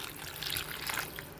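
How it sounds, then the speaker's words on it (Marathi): Hot water poured from a pot onto drumsticks, moringa pods, in a pan: a short, close trickling pour lasting about a second and a half, with no one talking. "आता ते पाणी आपण शेंगामध्ये ओततो."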